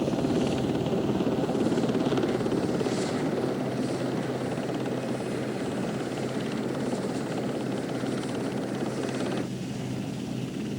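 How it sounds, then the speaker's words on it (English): Sea King and Wessex military helicopters in Falklands War archive footage, a loud, steady rotor and engine roar that continues for the whole stretch. "The helicopters, the Sea Kings and Wessex,"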